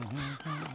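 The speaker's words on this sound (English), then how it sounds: "Crows." Crows caw in a cartoon garden setting, a couple of harsh calls overlapping within a moment against a steady background.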